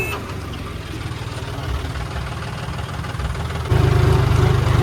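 A tractor engine idles steadily with a low, chugging rumble throughout, growing noticeably louder near the end as it revs or draws closer.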